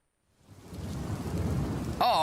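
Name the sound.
thunderstorm and rain sound effect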